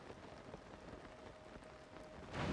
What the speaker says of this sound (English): We are actually in the thunderstorm itself.